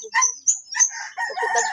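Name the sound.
chicken clucking or crowing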